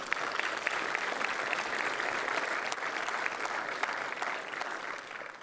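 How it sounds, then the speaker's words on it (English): Audience applauding at a JS Poland conference talk on mobile-ready micro frontends, a dense, steady clapping from a large crowd that carries on evenly and fades slightly at the end. "may I ask once again for a big round of applause for them"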